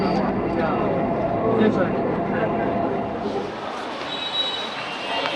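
A Dhaka metro train runs between Karwan Bazar and Bijoy Sarani with a steady broad rumble and rail noise throughout, a faint high squeal rising near the end, with voices murmuring underneath.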